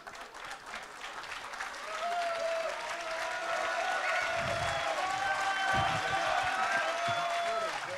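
Applause from a crowd at a political public meeting fills the room, steady clapping that swells and holds with a murmur of voices beneath.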